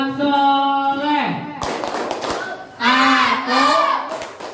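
A classroom clapping game, "tepuk anak soleh", where a few sharp, close claps fall between loud chanted and sung voices.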